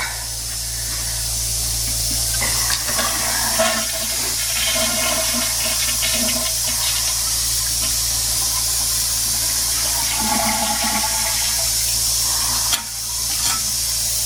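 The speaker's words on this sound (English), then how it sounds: "Toilets I gotta pump out." A toilet flushes in a vacant house being winterized, a loud rushing, hissing spray of water that continues steadily, with a low pump hum underneath and a few brief knocks.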